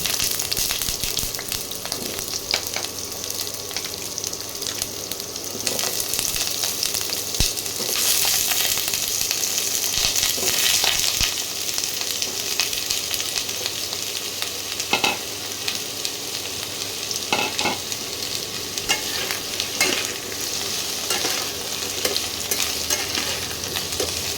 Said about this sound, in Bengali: এবার এই তেলের মধ্যে স্কোয়াশগুলোকেও ভেজে নেব।